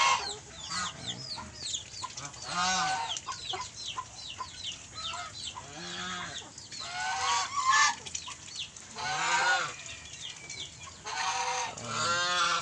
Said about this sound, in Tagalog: So ito yung mga alaga kong gansa.